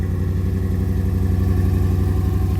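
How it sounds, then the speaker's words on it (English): A Porsche 944 race car fitted with a 350 horsepower Chevy small-block V8 idles loud and close, with a steady, lumpy, rhythmic rumble that holds even throughout. "Welcome to the 350 brake horsepower Porsche 944."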